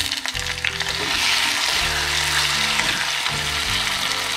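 Onions and a small chopped tomato sizzle steadily in a pan for a dry fish kulambu, a loud, continuous frying hiss with occasional low clatters of stirring and no voices.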